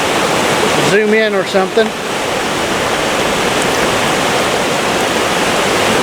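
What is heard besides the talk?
river water rushing past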